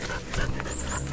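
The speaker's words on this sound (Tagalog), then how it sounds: "Ang ganda ng aso na to." A dog outdoors near a garden plot gives short whimpering yips and breathy sounds, fairly close, over a noisy outdoor background.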